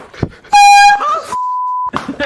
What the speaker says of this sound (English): He grabs an air horn first.